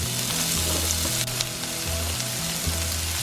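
Chopped onion sizzles steadily in a hot pan, a close, dense frying hiss that carries on throughout with a faint scrape or two of stirring and no talking.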